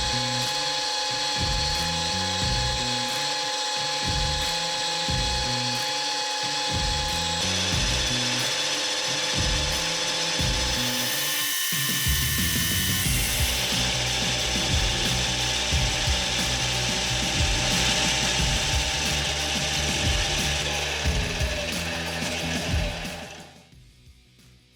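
A metal lathe takes light, shallow cuts in 4140 chromoly steel, giving a continuous loud, rhythmic mechanical grinding and clatter that shifts tone midway, then winds down to quiet at the end, with no voices.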